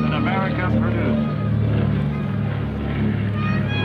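A four-engine B-24 bomber flies past at the 2003 Dayton airshow, its piston engines making a loud, steady, throbbing drone that holds for the whole stretch.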